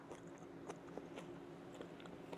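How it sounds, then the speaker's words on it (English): Crunchy air-fried coconut shrimp is bitten and chewed up close, giving a quiet, steady stream of small crisp crackles with a few sharper crunches. "You get the crunch, sweet coconut flakes, and that succulent shrimp"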